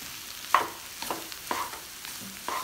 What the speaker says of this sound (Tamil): இப்போ ஒன்று சேர நல்லா கலந்து விட்டுக்கலாம்.